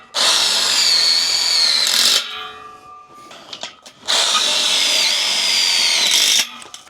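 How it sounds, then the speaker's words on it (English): Power drill driving screws into the metal legs of a DIY carport, two long loud whirring bursts separated by a quieter gap with faint clinks and handling noise. "now we gotta put screws on them and hold them tight"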